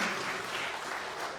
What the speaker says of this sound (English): give yourself a nice round of applause for coming out and supporting all this